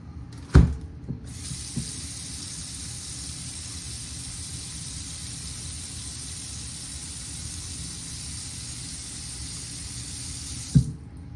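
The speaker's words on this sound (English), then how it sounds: "Now, I'm going to fill this with water." Water runs from a tap into a metal bowl in a steady, hissing rush for about ten seconds, framed by a clunk as it starts and another as it stops.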